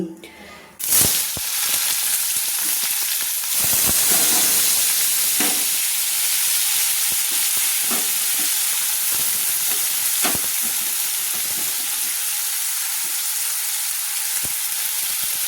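Finely chopped onions (about three) hit hot oil in a pan on a medium flame, bursting into a loud sizzle after a brief quiet start, then a steady close hiss with occasional stirring clatter.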